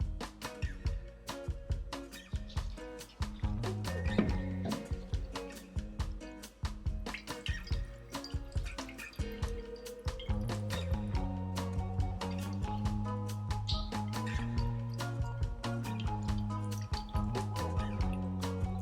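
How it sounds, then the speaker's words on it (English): Water is poured slowly into the pot of a Bird of Paradise plant, giving a long run of close, irregular drips and trickles that continue steadily throughout. "I will continue pouring the rest of the water, and again slowly and watching the bottom"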